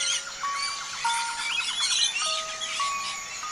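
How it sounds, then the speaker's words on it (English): Macaws in a bird park give bright, repeated chirps and tweets with sustained whistle-like tones over a steady hiss, moderately close and without talk. "The macaws cheerfully chirp, as if sharing their joy with you."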